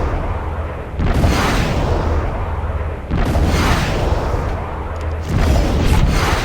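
Harpoon missiles launching in the Freespace 2 space combat game, a dense roaring wash of booming blasts that swells in three loud surges with no pauses between them.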